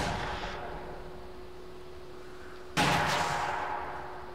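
A sniper rifle in the Company of Heroes 2 video game fires one sharp, loud shot partway through, breaking a low, steady background hum and leaving a short decaying echo.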